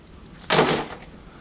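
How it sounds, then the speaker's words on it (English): A drawer slides open or shut in a workshop, one short smooth broadband rasp of about a third of a second, fairly close and fading quickly into quiet room noise. "We're going to put these in the drawer for safekeeping."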